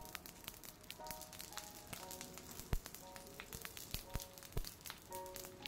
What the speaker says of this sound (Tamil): இப்போ 1 டீஸ்பூன் ஆயில் விட்டு ஆயில் சூடானதும் எடுத்து வச்சுருக்க 1/4 கப் கடுகு போட்டு, கடுகு பொரிஞ்சதும் கருவேப்பிலை போடுங்க.